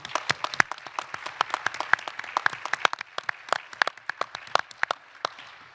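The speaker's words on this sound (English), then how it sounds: "give yourself a pat on the back, a round of applause" Attendees at a 2019 direct primary care healthcare summit give a round of applause. The sharp, distinct claps from a modest number of people are scattered and uneven, then thin out toward the end.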